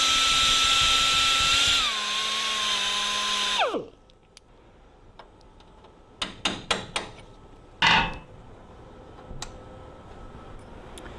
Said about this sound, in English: I found the best way to do it is kind of grind it down as flush as possible.